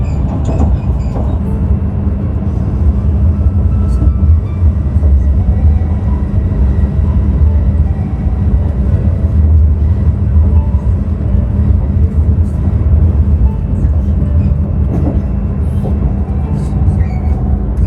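Steady, loud rumble of a Tohoku Shinkansen high-speed train arriving at Morioka Station, continuous low mechanical roar with faint rail hiss throughout, no voices.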